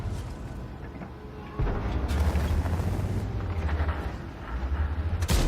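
A tank's ammo rack explodes in the World of Tanks video game, a Centurion taking the hit, heard as heavy rumbling booms that swell and roll on through the whole stretch.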